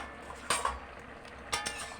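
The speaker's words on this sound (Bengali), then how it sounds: "এবার আমি ঢাকাটা খুলে নিচ্ছি।" A lid comes off a cooking pot of boiled pumpkin, taro and potato with two sharp metallic clanks, the second about a second after the first, over a faint background of low simmering.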